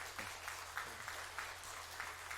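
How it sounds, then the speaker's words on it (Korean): A church congregation claps for newly baptized members during a Sunday worship service, a steady wash of applause filling the room at moderate level with no voices over it. "우리 오늘 세례 받으신 분들에게 축하의 박수 한번 드릴까요?"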